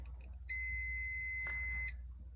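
A multimeter gives one steady high-pitched continuity beep of about a second and a half while probing a gas dryer igniter, heard alone over a low background hum.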